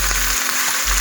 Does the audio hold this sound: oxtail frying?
yes